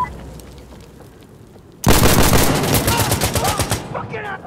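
Gunfire in Insurgency Sandstorm set in a prison map: after a quiet lead-in, a sudden loud burst of rapid automatic shots erupts and rattles on for about two seconds, then trails off with scattered reports.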